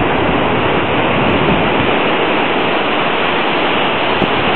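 Ocean surf on Pismo Beach along the dunes churns in a loud, dense and steady rush with no break or voices.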